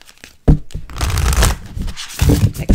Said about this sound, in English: Really shuffle those suckers.